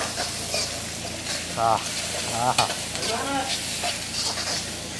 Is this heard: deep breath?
no